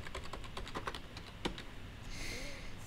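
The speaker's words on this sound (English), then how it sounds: "Just type that at the command line." Keys tapped on a computer keyboard while entering a command in Carlson Survey software, a quick run of close, crisp clicks followed by a softer pause and a faint hum.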